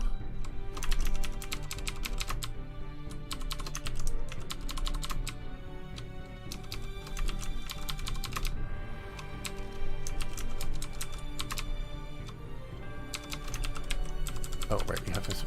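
Rapid computer keyboard typing runs throughout, with dense clusters of keystrokes broken by short pauses, heard close and fairly steady under a low background hum.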